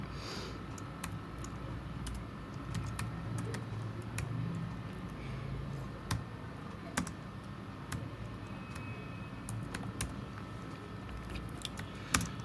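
Steady typing on a computer keyboard while entering text in Adobe Illustrator, with quick, scattered key clicks and occasional harder taps over a low background hum, no one speaking.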